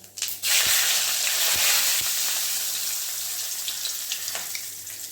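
Whole cumin seeds and bay leaves hit hot oil with a sudden loud sizzle, then settle into a steady, bright hiss. A few utensil taps come through as the frying goes on.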